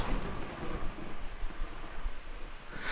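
Rain and rolling thunder from the weather system of the video game Miscreated make a steady, dense rumble with rain noise throughout, fairly quiet and without voices.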